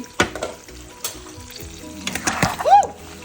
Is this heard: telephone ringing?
no